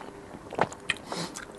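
Fried fish and meat being eaten with budu sauce: a few close, soft bites and wet chewing sounds, brief and quiet with no talking.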